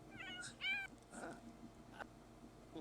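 A pet cat in The Sims 4 gives a few short, bright meows near the start, then softer chirpy calls over quiet game background sounds.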